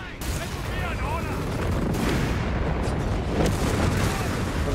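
A continuous rumble of an artillery barrage in Company of Heroes 3, with booms and explosions blending into a dense, roaring wall of sound, punctuated by sharper blasts.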